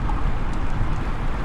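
Strong wind roars and buffets across a microphone during a motorcycle ride, a steady low rumble and whoosh with no break.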